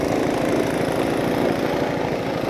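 A chartered boat motors along the river at Vang Vieng, Laos, its engine a loud, steady, close drone with a throbbing low rumble and no voices.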